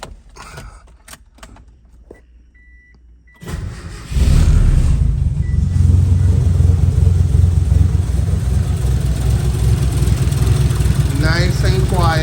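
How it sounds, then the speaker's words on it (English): After a few quiet seconds of light clicks and jingling, a 1988 Starion fitted with a full 3-inch turbo-back exhaust cranks and fires, then settles into a loud, steady idle that continues close by until the end. "the final start, we are gonna see what she really sounds like with the full exhaust"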